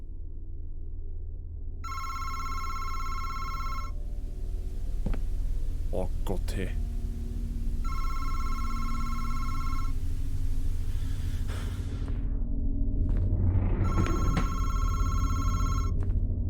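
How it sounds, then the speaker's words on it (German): A telephone rings in the video game Madison, sounding three bursts of a bright electronic bell, each about two seconds long and separated by pauses. A low rumbling ambience sits beneath it, and someone speaks briefly between the rings. "Jetzt leitet das Telefon, ist eh klar."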